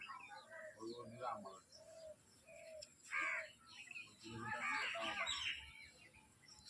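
Pigeons calling and cooing in short bursts close by, with a crow-like cry near the end, over low background noise and some talking.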